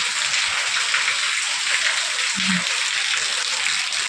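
Steady rain pours down, a constant even hiss of drops hitting surfaces, with a brief low thump partway through.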